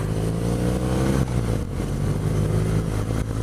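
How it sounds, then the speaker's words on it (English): A 2017 BMW R nineT Pure motorcycle engine rumbles steadily at close range, with a continuous low mid-pitched drone and faint irregular crackle through its exhaust. No voices are heard. "you can hear this popping sound, crackling sound"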